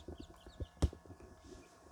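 Small baby chicks cheep softly in short scattered peeps, with one louder sharper call partway through, all fairly faint and close.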